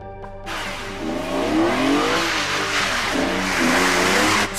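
A Lamborghini Diablo supercar engine roars loud and close, climbing through revs in rising sweeps with brief dips between gear changes.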